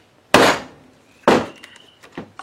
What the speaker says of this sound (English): Then I'm going to take the dead blow hammer, and then I'm going to come down with it from about maybe a foot.